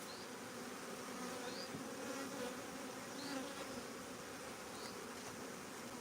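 Honey bees buzz continuously in a soft, steady drone, with a few individual bees passing close by.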